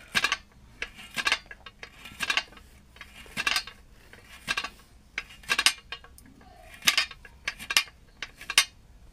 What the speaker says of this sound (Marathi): आता वहिनी कारलं चिरत आहे.